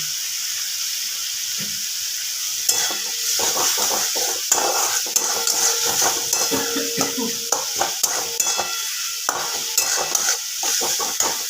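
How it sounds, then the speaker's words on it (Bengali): A thick spice paste for a gurjali fish curry sizzles steadily in a hot pan over low gas while a spatula scrapes and clacks against the metal in irregular strokes, close up, with no talking. "গ্যাস কমিয়ে খুব ভালোভাবে মশলাটা কষে নিতে হবে"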